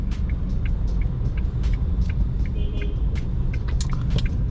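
Isuzu D-Max LS-E 4x4 pickup truck driving slowly through a turn, with a steady low engine and road rumble throughout and light clicks and squeaks over the top.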